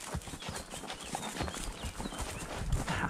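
Shire horse hooves clip-clopping at a trot across a stubble field near the Baltic Sea, a quiet, steady rhythmic patter recorded close by with faint ambient sounds around.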